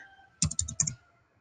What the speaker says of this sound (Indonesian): Biar saya ketik sendiri deh.